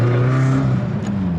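A car engine revs hard through a header exhaust at a car meet, a loud, close, steady drone with a slight pitch sag over a second and a half and no talk on top.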